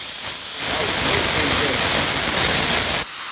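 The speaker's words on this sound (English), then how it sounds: "See, now we got a nice little pressure washer going on there." A small homemade pressure washer sprays water in a loud, steady hissing blast that starts abruptly after a brief quieter moment and runs for nearly three seconds before cutting off.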